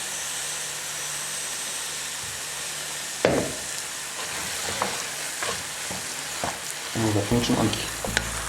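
Grated cheese is added to wholemeal spätzle frying in a pan, which sizzles steadily while a spatula scrapes and stirs in sharp bursts, with brief talk over it.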